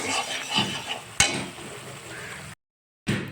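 Katla fish masala with onion is stir-fried in a pan, producing a close scraping and sizzling rub with a sharp clack near the middle, then a brief cut to silence before the stirring resumes.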